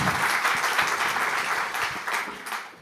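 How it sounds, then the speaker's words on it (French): Conference audience at a communications summit gives a warm round of applause, thick continuous clapping from many people, steady and moderately loud, tapering slightly toward the end with no speech. "Merci Valérie, on peut l'applaudir très fort."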